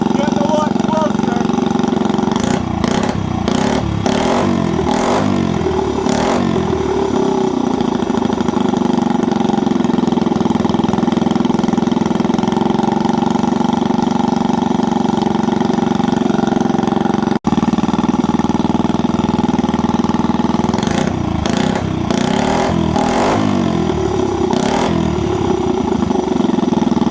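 A small motorbike engine idles steadily and loudly up close while its carburetor is adjusted. Short bursts of throttle blips come near the start and again toward the end. A person talks in the background.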